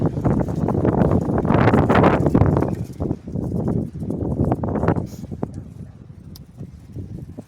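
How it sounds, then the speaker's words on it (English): Strong gusts of wind rush through a garden during a spell of heavy rain, loud buffeting surges rising and falling over several seconds before easing to a steadier, quieter blow. "Listen to that wind."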